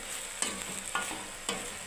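A spoon stirs okra through a mustard and poppy seed gravy in a pan, three distinct scraping strokes over a soft steady sizzle, close up.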